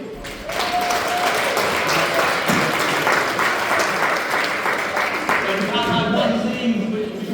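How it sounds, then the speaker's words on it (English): Parents and players at a youth football club's under-12 end-of-season presentation break into loud, sustained clapping filling the room, with a few voices rising faintly beneath it near the end. "Big round of applause please."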